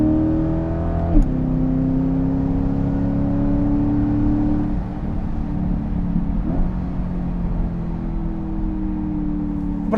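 A 2020 C8 Corvette with a Fabspeed Valvetronic exhaust drives on a wet road, its engine droning steadily with a rev change and shifting pitch, loud and close from inside the car, no talking.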